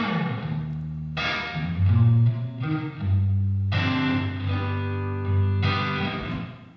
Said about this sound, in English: all you're gonna hear is the actual reverb signal, and it sounds like this.